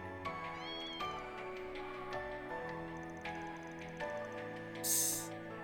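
Cats meow repeatedly in the video game Trails through Daybreak II, clear mewing calls over light background game music, with no talking.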